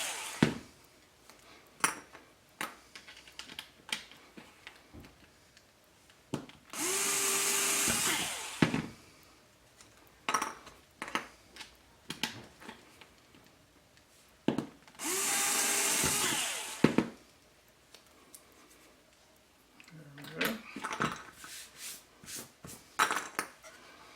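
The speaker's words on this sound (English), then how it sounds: "take your 1/8" bit. Go ahead and put it in the middle of that circle and drill it through" Two sustained bursts of a power drill with a 1/8-inch bit boring through a mini quad frame, each lasting a couple of seconds, separated by clinks and knocks of small metal parts being handled.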